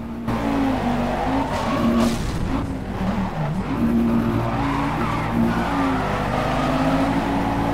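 Tires skid and squeal in the racing game Project Cars, a long loud screech over a steady engine roar that rises and falls throughout.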